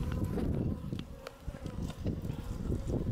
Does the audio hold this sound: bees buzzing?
yes